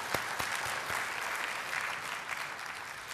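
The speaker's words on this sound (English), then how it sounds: "You can clap one more time." A seminar audience of chartered accountants in Dubai claps together, opening with a few distinct sharp claps that blend into a steady, moderately loud round of applause which eases slightly toward the end.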